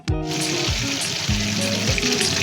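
Butter melting and frying with garlic and ginger in a pan for chicken cheese boti, a steady close sizzle that starts abruptly and continues throughout, with soft background music.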